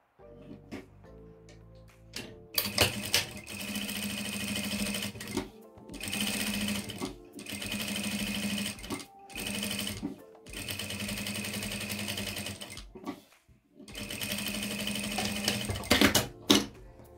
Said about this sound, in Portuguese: E aqui eu passo uma costura aqui a toda a volta.